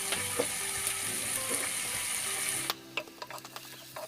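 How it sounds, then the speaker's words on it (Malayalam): Onions frying in a pan until browned, a dense close sizzle with scattered crackles and spatula scrapes that drops sharply partway, leaving quieter intermittent clicks and stirring taps. "സവോള നല്ലപോലെ ബ്രൗൺ കളറായിട്ട് മുരിഞ്ഞ് വരുന്നത് വരെ നമുക്കൊന്ന് വെയിറ്റ് ചെയ്യാം"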